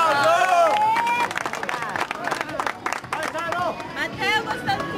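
A crowd applauds at the 2014 marathon awards in Cotronei, with a loose patter of clapping and crowd noise under a loud announcer's voice and scattered shouting.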